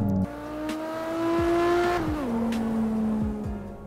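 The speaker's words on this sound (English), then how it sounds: "Damn, the 2JZ sound." The 2JZ engine of a Toyota Supra in the CarX Drift Racing game revs loudly and steadily, holding a rising tone before the pitch drops through a gear change and settles.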